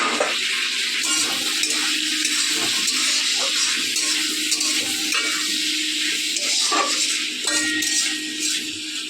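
Chopped onion, slit chillies, chopped tomato and garlic paste frying together with prawns in a pan, a steady close sizzle with occasional stirring scrapes throughout.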